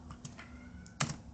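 Quiet, close typing on a computer keyboard, a few soft irregular key taps over a faint background hum, ending in a short quick cluster of keystrokes.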